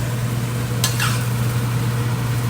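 Korat-style rice noodles stir-fried in a pan give a steady sizzling hiss over a low hum, broken once by a sharp scrape of the utensil against the pan. Nobody speaks.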